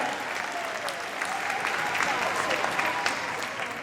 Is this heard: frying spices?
no